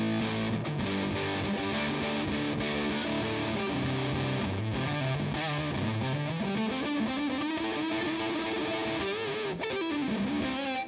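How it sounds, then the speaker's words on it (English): Electric guitar on the neck pickup through a fuzzy distortion pedal, played loudly and continuously with sustained, saturated notes and a sliding, bending melodic line. "If I switch over to the neck pickup, you're going to hear more of that fuzzy kind of sound."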